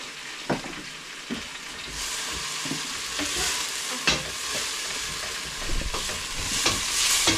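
Pilao with peas and chicken stirred in a pot, a continuous sizzle with intermittent spoon knocks and scrapes against the metal, close and moderately loud, with no talking.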